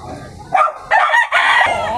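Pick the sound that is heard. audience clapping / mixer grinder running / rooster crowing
rooster crowing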